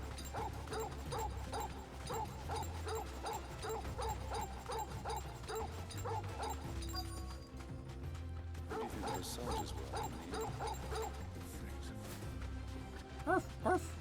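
Small dog barking and yipping in short repeated bursts inside the Final Fantasy XVI video game, sitting over a steady rumbling game soundtrack and ambience, with a couple of louder sharp yips near the end.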